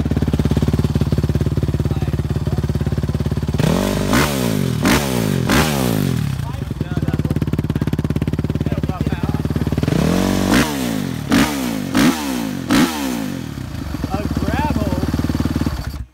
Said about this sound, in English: Warming that bike up.